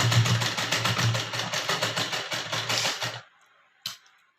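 A sewing machine runs in steady rapid pulses for about three seconds while double-stitching a blouse side zip, close and fairly clear, then stops and is followed by a single short knock.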